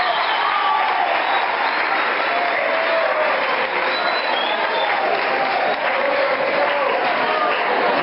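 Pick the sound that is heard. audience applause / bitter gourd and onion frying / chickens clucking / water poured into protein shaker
audience applause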